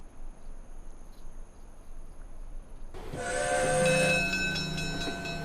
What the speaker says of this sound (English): The sound of the railroad carries many meanings.